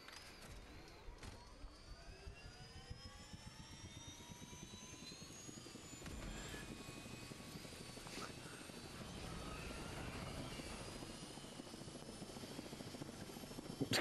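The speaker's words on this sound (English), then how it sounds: "Plane crashes." An aircraft engine drones and whines steadily in the Dead Island 2 video game just before a plane crash, loud and continuous with pitch shifting over about fourteen seconds and a few rumbling bumps toward the end.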